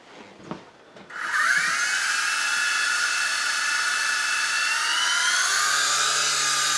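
A small RC coaxial helicopter lifts off indoors: a couple of faint knocks, then the rotors spin up sharply into a loud, steady high-pitched whine that holds to the end.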